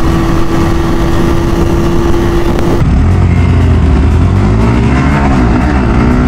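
A 2023 KTM Duke 200 engine bounces off its rev limiter with a loud, steady, buzzing drone that cuts in and out in rapid stutters. Another bike's engine joins partway through with a lower rising tone, all close and loud with wind noise.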